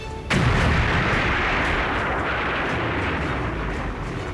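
A 1945 nuclear bomb test explodes in an American desert, opening with one sharp blast and rolling into a long, dense, roaring rumble that stays loud and unbroken to the end.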